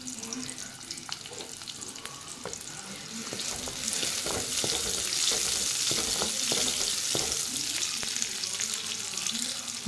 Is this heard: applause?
no